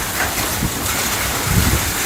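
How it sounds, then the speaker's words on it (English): Hail pelts an Australian patio during a sudden cyclonic storm, a loud, dense, continuous hiss and patter close to the microphone with gusting wind mixed in. "That's called hail."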